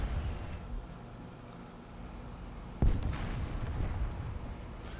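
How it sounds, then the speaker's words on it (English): An artillery shell strikes the track of a Leopard 2A4 tank in War Thunder: a single sharp, heavy impact bursts out midway, then a rumbling, noisy tail lingers over the steady low engine hum. "I think that was the artillery that was called on me that hit the track"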